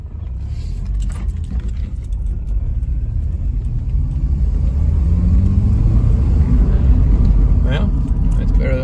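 A 2002 Subaru Outback, just fitted with a new fuel pump, pulling away to drive around the block: a steady low engine rumble and road noise heard from inside the car, gradually building, with no talk.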